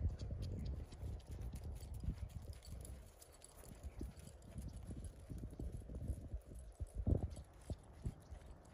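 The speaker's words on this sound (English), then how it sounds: "Extended trot." Hoofbeats of a ranch horse at an extended trot in a youth ranch rail class, a quick, even two-beat clopping on soft arena ground, moderately close and steady throughout.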